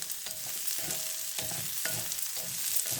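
Small shallots frying in a pan for fish curry, a continuous close crackling sizzle with soft intermittent stirring knocks throughout.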